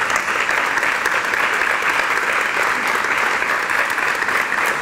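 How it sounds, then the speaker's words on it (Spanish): Sustained audience applause at a presentation event for a Costa del Sol espeto-grilling competition, steady dense clapping from a crowd filling the whole stretch at even loudness. "Un aplauso para ellos"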